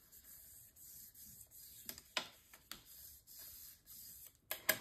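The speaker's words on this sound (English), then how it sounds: "And then I will burnish this down." A paper flap on a scrapbook page is burnished down with quiet, close rubbing and scraping strokes in short irregular passes. A few sharper scuffs stand out, and no one speaks.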